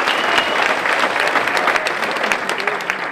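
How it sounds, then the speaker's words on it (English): An audience at a motivational speaking event applauds a guest with steady, full crowd clapping that continues without a break and stays close and loud. "Give her another round of applause"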